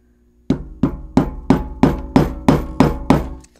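A hammer taps a bolt into a hole in a B&W 802 speaker cabinet, nine sharp, evenly spaced knocks ringing with a woody resonance, loud and close with no talk.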